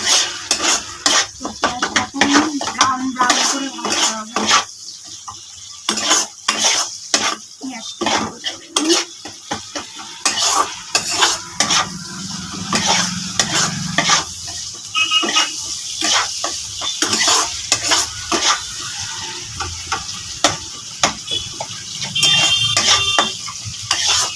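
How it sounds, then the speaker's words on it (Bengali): Sliced onion frying in a pan, with a steady sizzle under frequent sharp scrapes and clinks of a utensil against the metal, loud and close, stirring in irregular bursts. "পেঁয়াজটা ভেজে এসছে"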